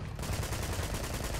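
A sniper rifle shot in the video game Uncharted 2 gives a brief, dense burst of gunfire noise that fills the short moment on its own.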